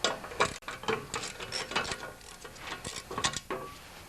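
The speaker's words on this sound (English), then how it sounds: "Now with a 7/16 socket, you need to remove both nuts here." A 7/16 socket ratchet removing nuts from a cover on a wood chipper shredder with a 10HP Briggs engine, a quiet run of close, quick ratchet clicks and light metal handling.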